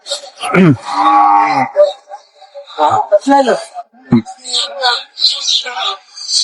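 Cattle moo loudly and nearby at Bamundi cattle market in Gangni, with a long low call at the start, while people chat around them in a busy, crowded setting.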